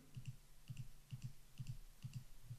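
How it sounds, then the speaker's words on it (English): Quiet, paired clicks from a computer mouse, repeating at a steady rhythm of double clicks about every half second over a low background hum. "Now let me let you listen to the mouse clicking."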